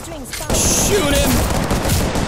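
Sustained, loud gunfire from the shooter game Apex Legends erupts after a brief quieter lead-in and continues as a dense barrage of shots, close and overwhelming, with a voice briefly over it.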